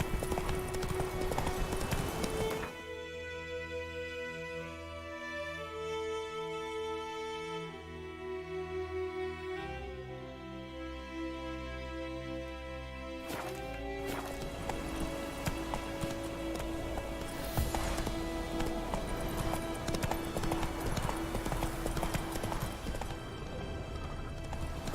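Galloping horse hooves in the video game The Witcher 3, a steady, close clip-clop rhythm running through the whole stretch over sustained orchestral game music, with a brief whinny and rain-like patter mixed in.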